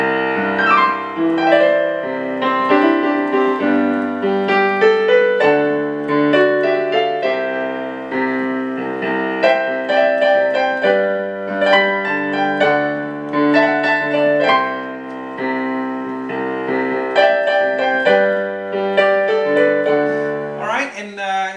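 Piano with a full band in a live acoustic rock recording, dense chords and melody playing continuously at a steady, lively level for the whole stretch.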